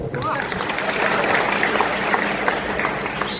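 Dense, steady applause from a crowd at a political party meeting, loud and sustained throughout with many overlapping hand claps close by.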